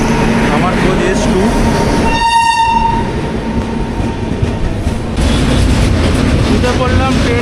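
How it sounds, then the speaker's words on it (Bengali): A train rumbles loudly across the Bally bridge, heard from inside a coach, with a steady roar, a sustained horn blast partway through and voices in the carriage. "উঠে পড়লাম ট্রেনে, এখন বালির ব্রিজ ক্রস করছি।"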